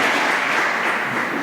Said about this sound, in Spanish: denle un aplauso al Señor por esta mañana